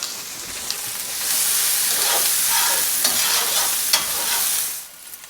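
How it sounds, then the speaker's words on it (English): Diced onion sautéing in an Instant Pot, a steady bright sizzle that swells as the pieces are stirred around, with a few scraping clicks, then fades at the end. "We're gonna add 1 diced onion. We're just gonna cook these around until they get translucent."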